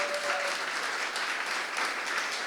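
Audience applause for chef Emeril at a live event in Las Vegas, a dense, steady clapping that fills the whole moment without pause.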